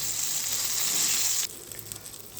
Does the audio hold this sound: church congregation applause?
no